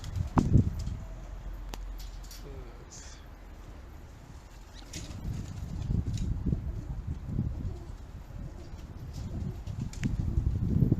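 Pigeons coo and rustle nearby, a low soft cooing rising and falling over faint background noise, with occasional flutters.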